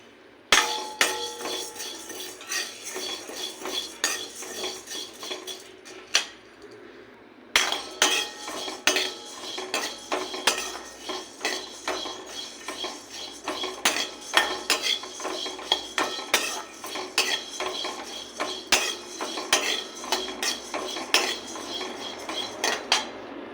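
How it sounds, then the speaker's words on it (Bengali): Biuli dal being dry-roasted in a hot kadai: a steady stream of metallic scraping and clinking as a utensil stirs the dry lentils against the pan, with a brief pause early on, no talk. "তার জন্য ডালটাকে কড়াইতে শুকনো করে ভেজে নেবো।"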